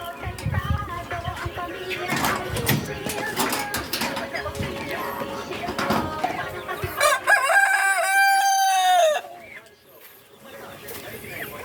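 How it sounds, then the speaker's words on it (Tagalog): Chickens cluck and chatter close by, a rooster crows loudly and clearly near the end, and a person talks over the birds. "Kita natin yung ibang mga manok doon. Nandun sila sa labas."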